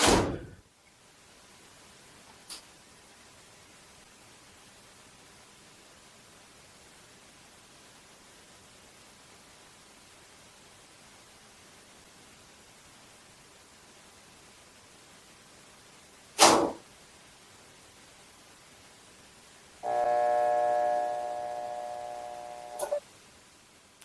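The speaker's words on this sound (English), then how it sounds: "Sometimes there's a clicking noise or a humming noise where that shift actuator is trying to get the basket to move and it can't" A Whirlpool washer with an F7E1 fault has its shift actuator attempting to move the basket, giving a few sharp isolated clicks and then a steady electrical hum of a few seconds before a final click, with no speech.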